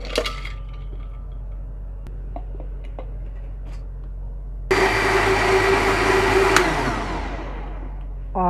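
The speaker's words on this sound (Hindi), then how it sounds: "और अच्छे से हमने शरबत को ब्लेंड कर लिया।" A kitchen blender whirs through jaggery sherbet with lemon juice, black salt, water and crushed ice, starting abruptly after some small clinks and knocks, a loud dense grinding roar that runs a couple of seconds and then winds down.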